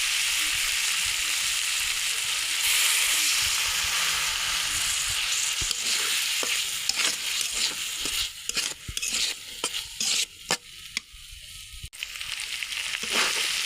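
Loud, steady frying sizzle of chickpeas and spices with repeated scraping strokes of a spatula stirring them around a pan, the clatter growing busier toward the end.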